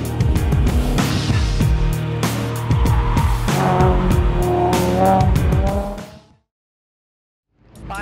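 A 2011 Mustang race car at a Global Time Attack round at Texas Motor Speedway roars loudly up and down through revs with tire squeal, then drops out to silence before the engine returns briefly.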